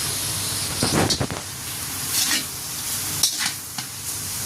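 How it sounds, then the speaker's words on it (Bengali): Jute leaves being stir-fried in a kadai, a close sizzle and hiss under irregular stirring scrapes and utensil knocks against the pan, busiest in the first second and a half and then lighter. "এখন শাকগুলোকে এভাবে নেড়ে চেড়ে একটু ভেজে নেব"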